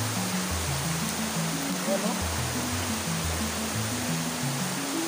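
Steady broadband rush of water from Kandungos waterfall, a constant close roar under a voice speaking, with low engine-like tones running beneath.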